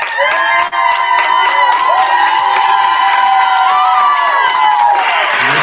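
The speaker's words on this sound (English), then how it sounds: "We'll give them another round of applause." A crowd cheers and applauds during a live college sectionals assignment show, with loud shouts, whoops and a steady roar of clapping that carries on throughout.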